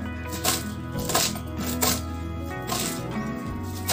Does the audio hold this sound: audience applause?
no